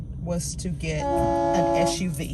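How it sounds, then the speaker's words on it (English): A train horn blows in a long sustained tone from a distance, heard beneath a person talking nearby. "that's the train blowing"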